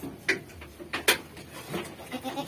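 Goats bleat nearby in a farm setting, several short bleats rising over rustling and handling noise, during lice treatment of thin goats.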